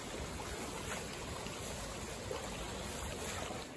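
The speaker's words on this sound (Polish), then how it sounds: "Znaczy lało konkretnie, ale że zrobi się taka rzeka." Floodwater rushes like a river across a flooded meadow after heavy rain, a fairly quiet, continuous hiss of flowing water with no voices.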